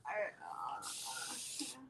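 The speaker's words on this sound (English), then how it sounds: "I'm just going to spray some water." Water spritzed from a spray bottle onto a board being cleaned, a steady close hiss lasting about a second, preceded by soft talking and background voices.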